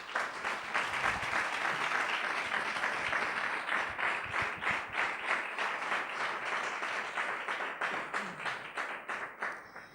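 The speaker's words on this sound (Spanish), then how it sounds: "Un aplauso al Señor." A church congregation bursts into sustained applause, loud and dense at first, with the clapping thinning into more distinct rhythmic claps toward the end.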